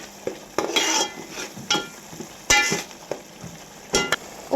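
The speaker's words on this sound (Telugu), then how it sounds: "దీన్ని బాగా మిక్స్ చేసుకోవాలి" Ginger-garlic paste is stirred into a pan of fish curry with onions, a utensil scraping in several short, separate strokes against the pan, close but moderately quiet, with a light sizzle underneath.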